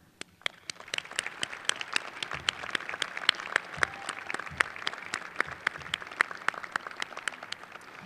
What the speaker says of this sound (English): We join our students as they give you applause in their appreciation for your love,